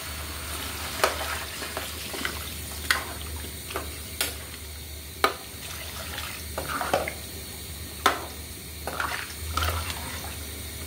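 Stir-fried vegetables with prawns sizzle in a pan as water is added, giving a steady frying hiss with repeated clacks and scrapes of stirring and a brief watery gush.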